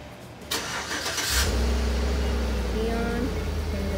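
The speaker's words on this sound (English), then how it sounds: "I'm gonna turn on the truck." A truck engine cranks briefly and catches, then settles into a steady low idle; a voice is heard just before it starts.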